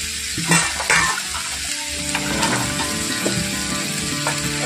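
Green peas sizzle and fry in a pan, with a steady crackling hiss throughout and scattered scraping, clinking stirs near at hand.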